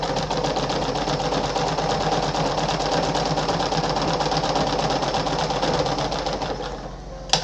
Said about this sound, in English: Then I'm using the higher stitch length, which is stitch length 4. So I'm gonna sew the regular straight stitch